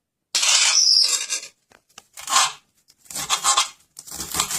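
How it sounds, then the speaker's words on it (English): Fresh cilantro is snipped into smaller pieces, with several bursts of crisp cutting and rustling separated by short pauses, close and fairly quiet. "Cut the cilantro into smaller pieces next."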